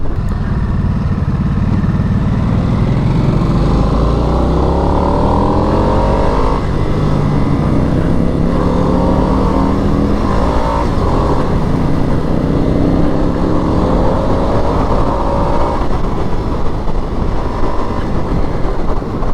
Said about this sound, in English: you have no sense of how powerful this motor is unless you can really let it rev out